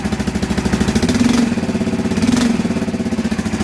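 A restored Yamaha Kodiak ATV engine runs close by with a fast, even putter, swelling twice into short clean revs before settling back to idle.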